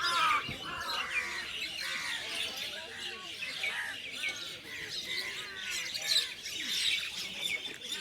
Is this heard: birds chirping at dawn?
yes